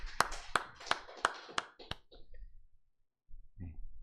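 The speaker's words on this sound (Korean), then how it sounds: "하나님께 영광의 박수 돌려드리겠습니다." Members of a congregation clap during a Korean church worship service: a short run of six or seven sharp, evenly spaced claps that thins into scattered taps, then a brief low murmur.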